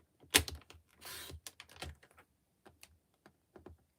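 A paper trimmer cuts through card: a quick rasping slide of the blade comes amid a scatter of small, close clicks and taps, with no talk.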